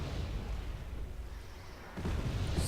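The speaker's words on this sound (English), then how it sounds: "So much artillery" Distant artillery rumbling in the Wargame Red Dragon video game, a low continuous booming roar that swells louder near the end, with no talk over it.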